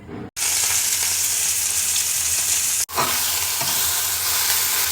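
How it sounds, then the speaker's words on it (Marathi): Okra frying in hot oil in a home kitchen pan, a steady loud sizzle with stirring scrapes that runs almost unbroken, cut by two brief gaps near the start and the middle. "तेलामध्ये आता मी नुसतं परतून घेते"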